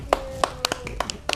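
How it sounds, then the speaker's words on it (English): A few people clap at a paint night: sparse, uneven handclaps, about eight distinct sharp claps across a short burst, close by and fairly quiet. "I give you a round of applause"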